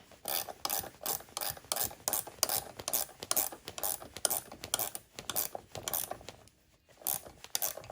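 Steady metallic ratcheting and scraping as a nut is tightened on a backrest fitted to a Honda CT125 motorcycle, a quick repeating rhythm of clicks up close with one short pause, no talking.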